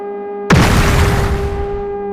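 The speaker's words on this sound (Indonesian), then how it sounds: "Bunyi hantaman dan ledakan." A fireball slams into a house with a sudden loud boom at about half a second, and the explosion's broad roar rumbles on and slowly fades over a steady background hum.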